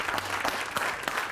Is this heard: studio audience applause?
yes